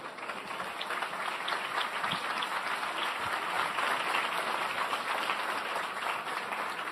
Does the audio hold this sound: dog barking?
no